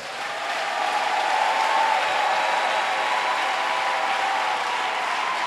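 A church congregation applauding and acclaiming the Lord, sustained steady clapping from a large crowd that fills the room without pause.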